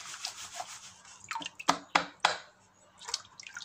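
A gold pan of paydirt being shaken and swirled in water with black sand showing, giving soft wet washing and rubbing sounds with a few sharp sloshing splashes in quick succession, close up.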